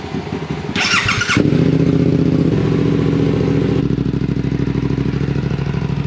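A motorcycle fitted with an aftermarket exhaust cranks over with a short high whir, then catches and settles into a loud, close, lumpy idle with a throbbing, uneven beat.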